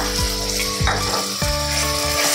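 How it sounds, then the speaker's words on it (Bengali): Tomato and ginger fry in a pan for a lalmohan bhetki fish dish, giving a loud, dense, continuous sizzle up close with a few scraping stirs and no talk. "আদা দিয়ে আমি একটুখানি ভালো করে কষে নেবো"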